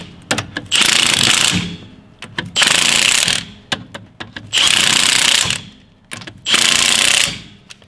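A torque-set impact driver tightening wheel bolts on a 2003 Chevy S10 during a rear brake job, firing in four loud hammering bursts of about a second each, separated by short pauses with faint clanks.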